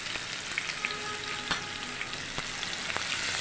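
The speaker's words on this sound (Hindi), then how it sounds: "और इसे थोड़ा गोल्डन होने तक फ्राई करते हैं।" Chopped medium onion frying in hot oil with cumin and mustard seeds, a steady close sizzle broken by a few sharp crackles and pops, with no voices.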